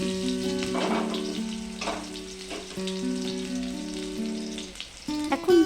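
Julienned ginger dropped into hot oil with spluttered mustard seeds sizzles steadily throughout, a busy frying hiss under sustained musical tones, with a louder burst near the end.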